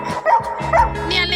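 A pet dog barks on a rooftop terrace during cleaning, giving two quick high yipping barks close by, followed by a whiny, whimpering call.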